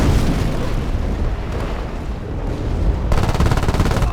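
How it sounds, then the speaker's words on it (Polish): Rapid, dense gunfire from the video game Battlefield Play4Free rattles continuously with heavy bursts and booms, sounding like a close firefight with no voices. "Już słyszę strzały."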